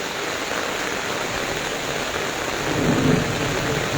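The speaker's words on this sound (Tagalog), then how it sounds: "Grabe oh, lumalakas yung ulan." Heavy rain pours steadily in a dense, unbroken roar that swells slightly louder toward the end, close and alone with no voices.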